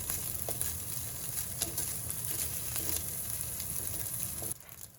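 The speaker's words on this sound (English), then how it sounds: "Pan fry the turkey bacon on a heated nonstick pan." Steady, continuous sizzling of turkey bacon frying without oil in a hot nonstick pan, close and fairly loud, with faint crackles, then dropping away abruptly near the end.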